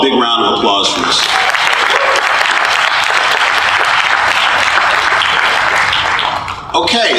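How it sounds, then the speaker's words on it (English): Loud, dense applause from a convention audience at a closing ceremony, rising quickly after a voice and holding steady for several seconds, with a speaker's voice briefly audible at the start and end. "give them all a big round of applause for this."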